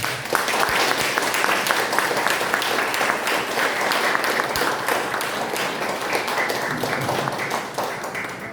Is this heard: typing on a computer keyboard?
no